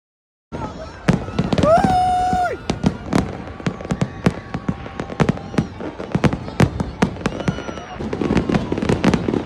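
Fireworks at the Dubai New Year 2025 celebration: a rising whistle followed by a rapid, irregular barrage of loud cracks and booms, with crowd noise underneath.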